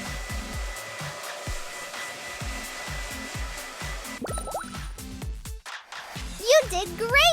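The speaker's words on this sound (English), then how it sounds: "Dry the fur with a hairdryer." A hair dryer blows on a toy pet's fur during play with an LOL Surprise Pet Center set, a steady whirring rush under music and speech that fades out partway through.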